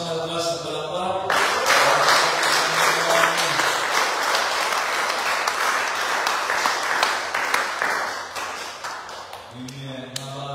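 A church congregation at a Sunday service breaks into loud, sustained applause lasting several seconds, with a voice speaking just before and after the clapping.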